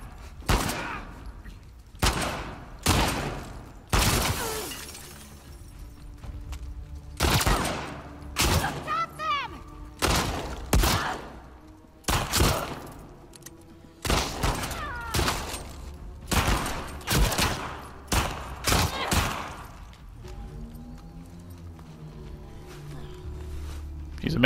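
Gunfire in The Last of Us Part II, sharp single shots fired in a steady irregular series over about twenty seconds, loud and close, with a voice talking between the shots.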